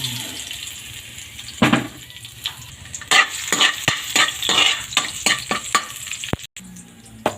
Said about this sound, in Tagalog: Haluin hanggang sa golden brown ng bawang.